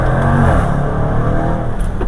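The engine of an SVR SUV revs hard and close, a loud deep sustained roar held steady for about two seconds.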